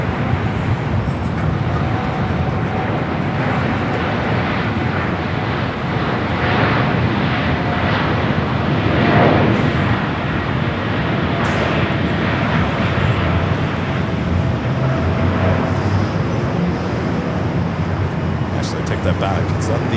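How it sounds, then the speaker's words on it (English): Japan Airlines jet bound for Tokyo Narita rolling for takeoff on runway 25 right at Los Angeles airport, a steady broadband engine roar holding loud throughout under a commentator's talk. "Japan Airlines, the flight heading back to Tokyo Narita, now rolling down at 25 right."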